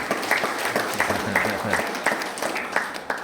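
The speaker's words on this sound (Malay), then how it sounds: "Tepuk tangan untuk pengulu." Guests at a thanksgiving ceremony applaud the penghulu, a village headman, with moderate, steady clapping as a voice murmurs under the sound partway through.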